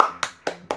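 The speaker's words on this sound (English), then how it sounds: "They should have been slow clapping, or they all were slow clapping." Three separate claps sound in the BattleBlock Theater video game, spaced evenly like a slow clap from the audience, each one sharp and close with a gap of silence before the next.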